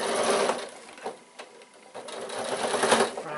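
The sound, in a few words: sewing machine stitching piped bag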